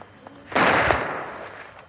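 Deagle pistol fire in the Roblox game Deagle Arena: one sharp, loud burst followed by a short decaying tail, standing alone with no talk.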